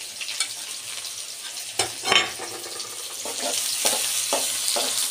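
Chopped onion sizzles in beef fat with a little oil for okra, a close, steady frying hiss broken by a few scraping stirs of a utensil against the pan.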